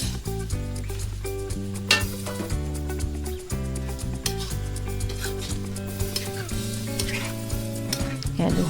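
Cold leftover rice stir-fried for Chinese chicken fried rice sizzles steadily in the pan, with scraping stirring strokes throughout and loud music playing over it.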